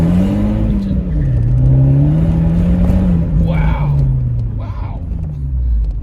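A 2018 Fiat 124 Spider Classica with a six-speed manual accelerates hard in second gear, its engine note loud and close, rising and falling through the pull before settling back.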